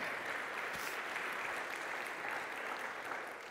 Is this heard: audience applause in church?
yes